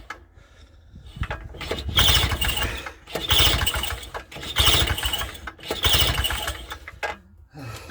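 A two-stroke boat engine is cranked repeatedly, four surging bursts of turning-over noise in an even rhythm that sputter without settling into a steady run, close and loud.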